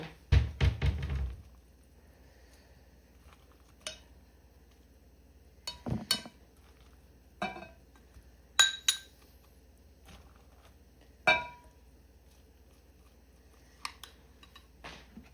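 Ceramic bowls and dishes knock and clink in a home kitchen, with a loud clatter at the start, then scattered sharp taps and chinks spaced seconds apart amid quiet.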